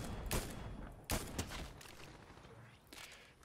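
Fortnite Chapter 4 gunfire, running on Unreal Engine 5.1, cracks out in a few sharp, close shots with irregular gaps, amid softer rustling and movement noise.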